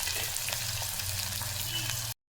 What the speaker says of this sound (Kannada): ಮಿಕ್ಸ್ ಮಾಡಿ ಸ್ವಲ್ಪ ಚೆನ್ನಾಗಿದೆ ಎಲ್ಲ ಫ್ರೈ ಆಗಿದೆ.